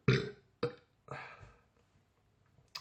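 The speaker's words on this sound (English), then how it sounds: "I burp, it's a sign of a good ale." Several loud, close burps follow a sip of Nøgne Ø pale ale, three sharp belches in quick succession and then a fainter one at the end.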